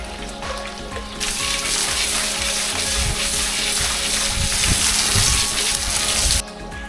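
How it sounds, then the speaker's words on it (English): Fresh water gushes steadily into a fish pond during maintenance, starting abruptly, pouring continuously for several seconds, then cutting off. "time to fill up with some fresh water."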